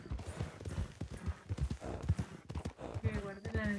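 Horse hooves clip-clop in a steady trotting rhythm in a western roleplay video game, close and clear, running under continuous conversation in Spanish.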